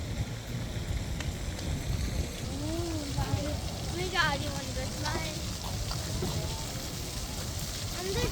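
Steady heavy rain hisses and drums throughout, with voices talking over it.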